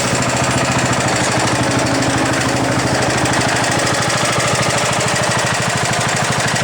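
Engine of a 1973 John Deere 110 basic model lawn tractor running steadily and loudly up close, with a fast, even chugging pulse and no pauses throughout.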